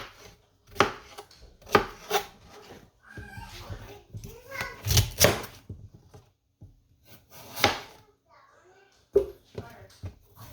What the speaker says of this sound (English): I'm going to go ahead and cut and cube this up and put it in the crock pot